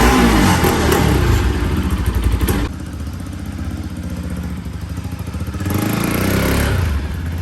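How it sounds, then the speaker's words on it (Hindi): A Bajaj Pulsar NS200 motorcycle engine runs loud and close, a dense, rough thrum that drops to a lower idle partway through and then swells again near the end. "तो बाइक स्टार्ट कर दिया है,"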